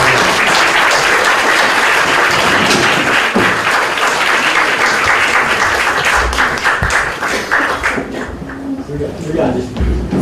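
An audience at a book launch talk gives loud, sustained applause as a professor comes forward, dense clapping that thins and tapers toward the end.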